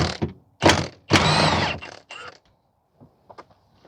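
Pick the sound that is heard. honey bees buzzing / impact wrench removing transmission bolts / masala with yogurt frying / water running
impact wrench removing transmission bolts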